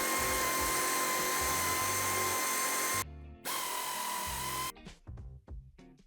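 An air impact wrench or power tool spins off nuts on a 2017-2020 Mercedes-Benz E-Class T213 All Terrain diesel during tow hitch fitting: two loud sustained whirring bursts with a brief gap, then ratcheting clatter as it winds down.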